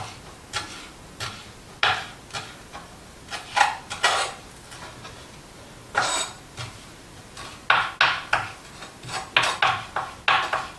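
A knife chops cilantro on a cutting board with irregular sharp knocks, single taps and quick runs of strokes, close and distinct with no talking.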